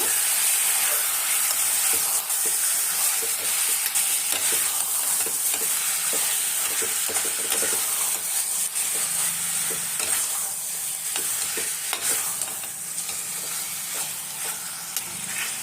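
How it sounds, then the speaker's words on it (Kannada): Chicken pieces fry and get stirred in ghee for a hariyali chicken ghee roast, giving a steady loud sizzle and hiss with scraping stir strokes throughout, without any talking. "ತುಪ್ಪದಲ್ಲೇ ಚೆನ್ನಾಗಿ ಫ್ರೈ ಮಾಡ್ಕೊಳ್ಳೋಣ ಎಷ್ಟು ಚೆನ್ನಾಗಿ ಫ್ರೈ ಮಾಡ್ತೀವೋ ಅಷ್ಟು ಚೆನ್ನಾಗಿರುತ್ತೆ"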